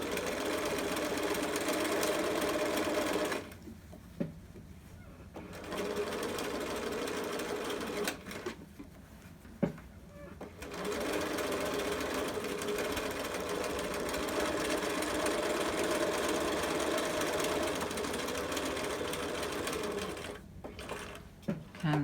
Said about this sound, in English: You're going to edge stitch 1/8 of an inch away from the edge of your fabric.